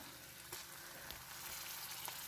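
Ginger paste frying in oil in a pan, a steady close sizzle with a few soft clicks and stirring bumps, no talking.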